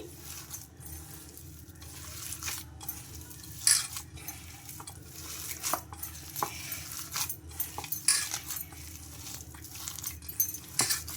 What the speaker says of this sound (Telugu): ఇలా బాగా స్మాష్ చేస్తూ ప్రెస్ చేస్తూ బాగా కలిపేసుకోవాలి